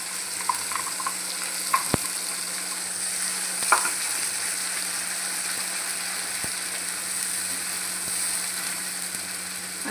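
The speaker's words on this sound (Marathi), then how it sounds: "वाटून घेतलेलं वाटण घालू. तेल सुटेपर्यंत चांगला मसाला आपल्याला परतवायचा." Ground masala paste sautés in oil for chole masala: an even, close frying sizzle with occasional spatula scrapes and a few sharp clicks against the pan, no speech.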